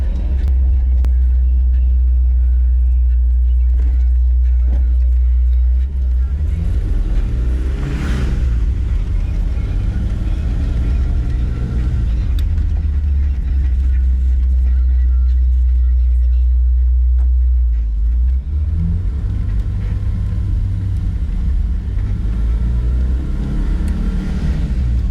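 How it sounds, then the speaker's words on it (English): A Mazda B2000 pickup on newly lowered control arms drives around the block with a loud, steady engine drone and road rumble from inside the cab, speeding up and easing off twice. "after taking the truck up for a spin around the block, it does feel good"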